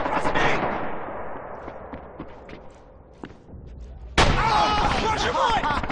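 Gunfire and artillery crack through a World War II Stalingrad multiplayer battle, with scattered shots fading over a rumbling backdrop before a sudden loud burst of combat noise, voices shouting amid the fire.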